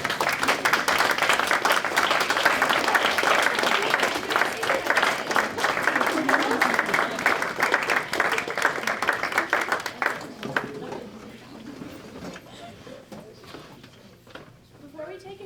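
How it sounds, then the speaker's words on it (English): A dinner audience applauds at length, dense clapping filling the room for about ten seconds before it thins out and fades. "please stand at this time to accept our applause and thanks"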